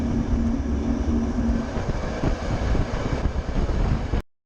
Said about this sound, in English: This train ran into serious trouble while switching tracks